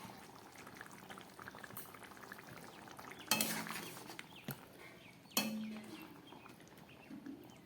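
Fried paneer and three or four green chillies drop into a boiling curry, giving two sharp splashy sizzles over a steady low bubbling and faint utensil clinks, with no talking.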